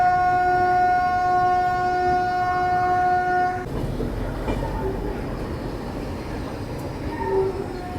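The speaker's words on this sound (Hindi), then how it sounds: "हम लोग एंटर कर रहे हैं कानपुर सेंट्रल रेलवे स्टेशन पे।" Bhubaneswar–New Delhi Duronto Express pulling into Kanpur Central station: a long steady horn-like tone for several seconds, then a dense, continuous rumble of rolling coaches close by, with no talk.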